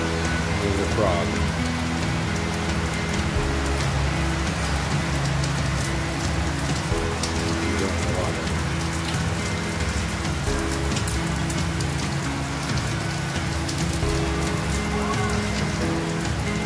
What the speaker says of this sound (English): And a hard rain all afternoon.